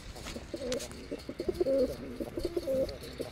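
Yellow gorra pigeons coo softly in repeated low, throaty phrases, fairly close and faint against a quiet background, with no talking.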